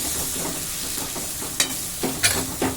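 Tomatoes sauté in a pan for chapati kurma, a soft steady sizzle broken by a few scraping stirs and small pops toward the end, close and fairly quiet.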